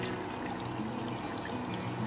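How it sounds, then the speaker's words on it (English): Water is poured steadily into rock tumbler barrels, a continuous soft splashing trickle at low level, close by and without speech. "So we'll do all of these, adding water."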